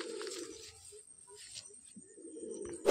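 Old-generation Madrasi pigeons cooing in a loft at Basirhat, soft low coos repeating close by with faint rustling and a brief sharp knock at the end.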